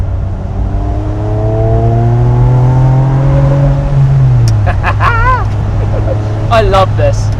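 Ferrari 550 Barchetta with a 12-cylinder engine and manual gearbox, heard from inside on a test drive: a steady engine drone rising in pitch as it revs, with people talking over it in the later seconds.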